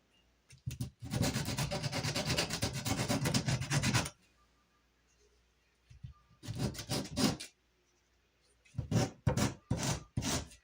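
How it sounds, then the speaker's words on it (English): Sandpaper rubs the excess off an acorn cap in a long, close scratchy burst, followed after a pause by two shorter rough rasping spells, with no speech. "So what happens if we sand that excess?"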